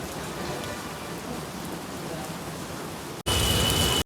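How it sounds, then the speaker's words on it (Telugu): Heavy rain falling outdoors, a dense, even hiss of drops on surfaces that holds steady, then cuts briefly and returns louder and brighter for the final second. "బయట అయితే ఫుల్ వర్షం పడుతుంది."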